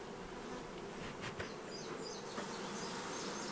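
Honey bees swarm over a comb frame full of emerging young bees while a summer hive split is being made, a dense, steady, close buzzing that fills the whole clip.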